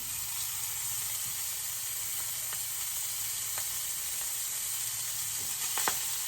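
Bacon and sausage links fry steadily in a pan, an even close sizzle running the whole time with a few faint pops and light clicks and no talking.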